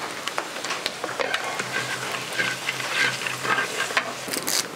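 Urad dal and pepper fry in hot oil with spluttering mustard seeds for South Indian nochi, giving a dense, steady crackle and sizzle with scattered sharp pops, close and fairly loud throughout.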